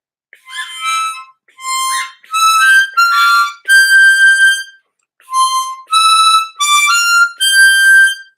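Harmonica practice phrase of about nine separate reedy notes in short breaths with gaps between, played close and fairly loud with no talking.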